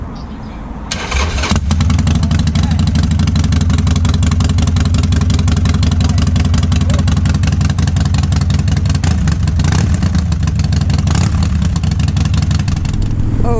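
A Harley-Davidson XL1200C motorcycle fires up after a brief cranking whirr and settles into a loud, lumpy, steady idle that fills the rest of the clip close by.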